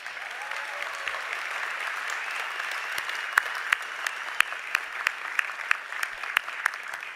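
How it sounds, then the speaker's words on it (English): Audience at a university winter commencement ceremony applauding, a broad, sustained wash of clapping from a large crowd in a hall, with a few sharper nearby claps standing out toward the end. "again, another round of applause."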